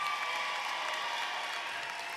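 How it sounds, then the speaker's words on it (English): Steady applause from a large crowd at a high school graduation ceremony fills the space, dense and continuous without pause, with a faint murmur beneath the clapping. "Let's give these graduates a round of applause."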